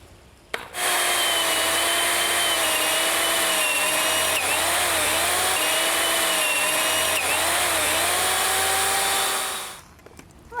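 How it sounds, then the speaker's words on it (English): A power drill with a 5/8 inch bit bores through a wooden fence post in one long, loud, steady whine, the pitch dipping twice briefly under load before the motor stops. "Now I can drill the holes. I'm using a 5/8 inch bit"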